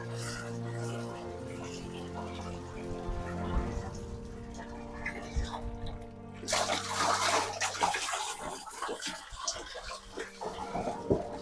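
Water running into a plastic bowl at a catfish farm, a continuous pouring and splashing rush that grows busier and brighter midway, with a low hum underneath throughout.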